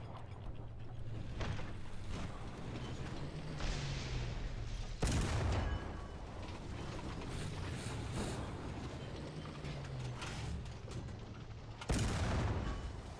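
Tank cannons boom in a tank video game, with two heavy shots about seven seconds apart standing out over a constant rumble of engines and distant gunfire.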